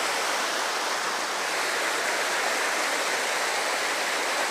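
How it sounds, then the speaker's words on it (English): Fast-flowing water of the Annan River rushes in a steady, loud, close broadband roar, like a stream or small rapids, with no voices over it. "they survive in this current and fast water"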